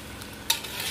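Chicken curry with garam masala being stirred in a pan, a brief soft sizzle with one sharp scrape of the spoon against the metal midway.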